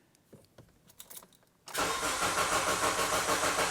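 A car engine cranks and catches during a crankshaft position sensor test, quiet shuffling giving way at once to a loud, steady, close running engine that continues to the end.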